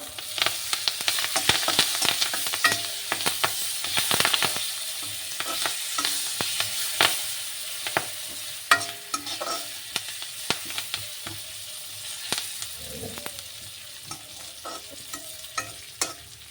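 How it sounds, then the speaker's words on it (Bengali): Oil sizzles and crackles steadily with sharp pops and spatters as curry leaves fry, close up, with occasional clinks of a spoon stirring the pan. "কারি পাতাটা একটু হালকা ভাজা হোক"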